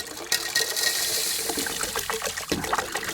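Gold-bearing pay dirt poured into water, giving a steady close trickling, splashing wash of liquid with small gritty bursts, continuous for a few seconds with no talking.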